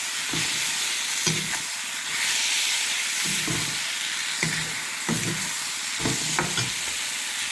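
Spices are stirred in a frying pan of sizzling oil, a steady loud sizzle with repeated scraping strokes of the spoon at a regular rhythm throughout.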